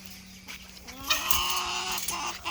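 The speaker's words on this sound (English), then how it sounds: "Time to introduce you to chickens." Chickens cluck and squawk on a farm, a few close, loud calls rising over a steady background hum, with no talking.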